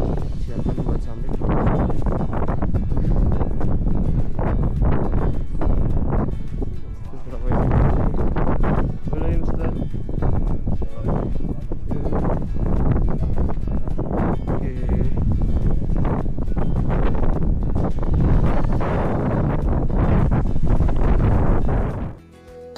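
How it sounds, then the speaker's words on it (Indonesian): Strong wind gusts on Bukit Batu Besar, a rocky hill on the climb toward the Mount Anjani summit, buffet the microphone in heavy, uneven roaring bursts that continue throughout, with people speaking underneath. "Keadaannya dipenuhi dengan angin yang cukup kencang"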